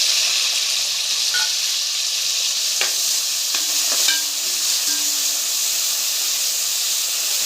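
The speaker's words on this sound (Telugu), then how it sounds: "ఆనియన్ పేస్ట్ యాడ్ చేసుకోవాలి." Onion paste sizzles in hot oil with green chillies for a tamarind fish curry, a steady close crackling hiss that runs unbroken throughout, dotted with a few faint clicks of the utensil.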